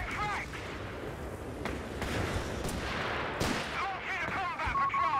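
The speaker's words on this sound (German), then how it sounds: "So, haben wir die blöde Artillerie." Artillery barrages in Company of Heroes 3, heavy distant booms and gunfire thudding through a busy battlefield mix while someone talks over it.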